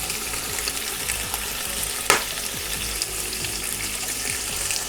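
Pieces of bacon brown in a hot pan, giving off a steady, dense sizzle up close, broken once by a brief scrape or clink, with no voices.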